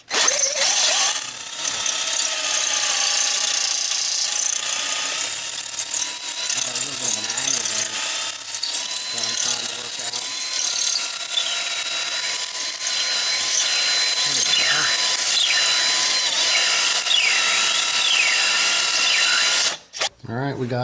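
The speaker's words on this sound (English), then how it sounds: "It's kind of hard to hold the drill with one hand." A handheld power drill bores a large hole, stepped up to a bigger bit, running loud and close almost continuously for about twenty seconds, with a brief pause near the end.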